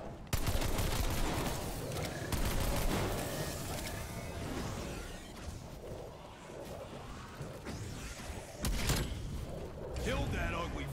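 Gunfire from 1911 pistols in a boss fight in the video game Outbreak Survival: dense, continuous shooting and crashing game noise that stays loud throughout, with brief swells, while voices talk over it.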